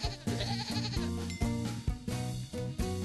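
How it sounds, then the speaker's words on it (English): A goat bleats several times in short, wavering calls over a rhythmic musical backing, loud and close. "Goat."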